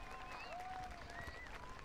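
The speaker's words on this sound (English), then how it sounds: "Give them a round of applause." Outdoor crowd at the Royal Norfolk Show applauding the RAF Falcons parachute display, a steady wash of distant clapping with a few whistles rising over it.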